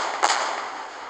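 A firework bursts in the Fireworks Simulator 3D game, one sharp crack followed by a broad crackling hiss that fades over about a second.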